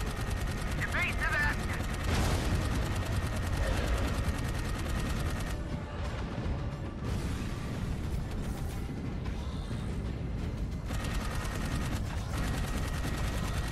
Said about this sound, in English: Open fire. I am opening fire.